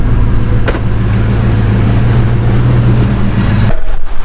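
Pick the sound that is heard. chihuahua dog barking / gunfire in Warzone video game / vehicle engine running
vehicle engine running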